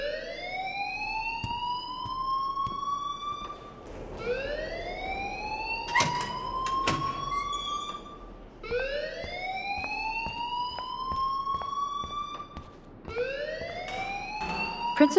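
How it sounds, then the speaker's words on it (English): A rising, wailing electronic alarm sounds in the video game Life Is Strange, sweeping up in repeated cycles about every three to four seconds, loud and steady with a brief clattering burst midway. "please turn off that alarm since that's your job"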